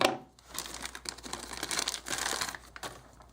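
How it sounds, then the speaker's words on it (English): Scissors cut open crinkly plastic packaging around a Blue Snowball microphone's USB cable, a close run of snips and crackling rustles lasting a few seconds with no talk. "Just use a little bit of scissors to get it out."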